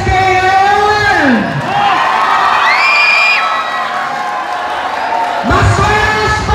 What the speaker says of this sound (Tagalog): Gusto palakpakan at sigawan ang SK ngayon!